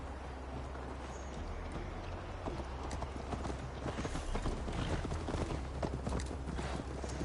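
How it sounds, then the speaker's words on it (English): Horse hooves clip-clop steadily during a ride in the video game Assassin's Creed Valhalla, a continuous rhythmic trot over a dense bed of game ambience. "Mount up, Eivor. It's a long ride to Tamworth"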